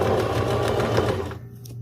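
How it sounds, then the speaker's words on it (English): Sewing machine stitching elastic onto an Ankara fabric mask, a close rapid mechanical chatter of needle strokes that runs steadily, then winds down and stops near the end. "I'm gonna sew as I pull"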